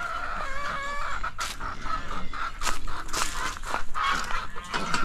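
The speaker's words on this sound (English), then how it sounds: "Gotta hear the peacocks." Peacocks on a farm give loud, repeated calls up close, with other fowl clucking and crowing in the background.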